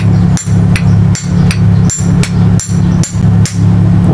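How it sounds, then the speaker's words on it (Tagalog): A hammer strikes a motor shaft to drive it out of its rotor: about nine sharp, evenly spaced metallic blows, roughly two per second, loud and close over a steady low hum. "Paluin lang ng martilyo yung shafting para matanggal sa rotor."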